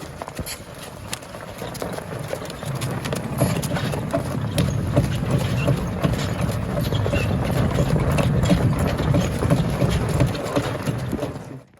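Hooves clop steadily at a walking pace on hard ground, fairly close, with a low rumbling background and a few brief voices.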